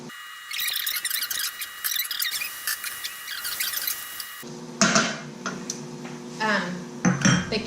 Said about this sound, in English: add in our onions and our bell peppers. Stir fry those for a minute.